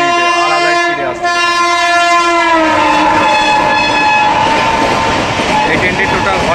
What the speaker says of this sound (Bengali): 1144 হাওড়া জব্বলপুর শক্তিপুঞ্জ এক্সপ্রেস লাইট জ্বালিয়ে আসছে দেখুন।